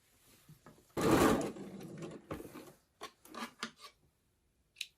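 A sewing machine set to zigzag stitches a fabric tote bag in one loud burst of about a second, then several short, quieter runs of stitching with brief pauses between them.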